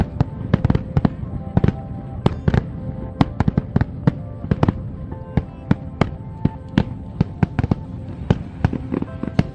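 Fireworks burst over the Saryu river during the Ayodhya Deepotsav Diwali celebration, a rapid run of sharp cracks and booms at uneven intervals over a low crowd murmur.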